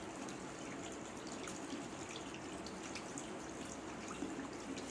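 Hands rinsed under a running tap, a steady soft hiss of flowing water with faint splashes, close but quiet, continuous throughout with no voices.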